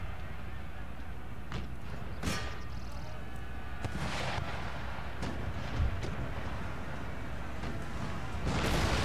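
Musket volleys crack across an Empire: Total War battlefield, a few sharp, booming shots spread out over several seconds against a constant rumble of combat, with a voice talking at times.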